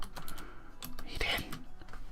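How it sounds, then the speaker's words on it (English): Computer keyboard typing comes through as a quick, irregular patter of key clicks, close and moderately quiet, with faint background noise and no clear talk. "Don't ignore the typing sounds."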